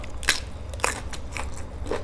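Crisp, crunchy bites into food, about four sharp crunches spaced roughly half a second apart with quiet chewing between, close up.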